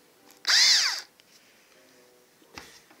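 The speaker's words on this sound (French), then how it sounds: "Donc là nous sommes sur une perceuse" A Dexter UP 20 cordless drill driver with a metal chuck whirs loudly in one short burst that spins up and winds down, followed by quiet and a single sharp click.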